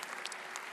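Audience at an award ceremony applauding for Kenya's President William Ruto, a dense, steady wash of clapping from a crowd, with no voices above it.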